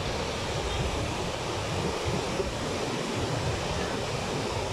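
A constant, loud roar of rushing water, broad and steady like a strong flow over Bustos Dam a week after Typhoon Ulysses, with no voices.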